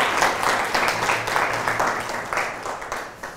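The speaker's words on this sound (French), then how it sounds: "Donc des applaudissements encore pour ces professeurs et élèves qui sont des acteurs et actrices en art." An audience applauds teachers and students who acted in a film about violence against girls, a dense, steady crowd clapping that fades slightly toward the end.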